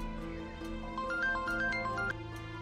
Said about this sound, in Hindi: अब हमना का फोन आ रहा है, क्या जवाब दूं मैं उसे?